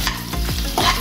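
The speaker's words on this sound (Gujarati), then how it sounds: "હવે અંદર ડુંગળી નાખીએ. હવે આપણે ડુંગળી થવા દઈશું એક મિનિટ માટે." Chopped onions hitting hot oil in a frying pan while cooking Schezwan chilli momos, a close, loud burst of sizzling with stirring scrapes through the short stretch and no voices.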